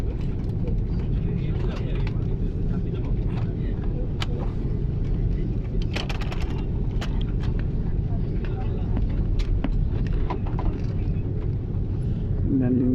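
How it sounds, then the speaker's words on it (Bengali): An airliner takes off from the runway with a loud, steady roar that fills the whole stretch, heard from inside, with voices faintly underneath. "মাটি থেকে বিমান এখন আকাশে থেকে যাওয়ার জন্য উপরে উঠবে"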